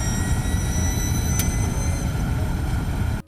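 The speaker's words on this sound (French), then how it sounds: "le sifflement de ces moteurs, je les trouve quand même assez impressionnants et éminents" A Formula E electric race car's motors give a sustained high-pitched whine layered over a steady broadband roar, loud and continuous for several seconds before cutting off abruptly.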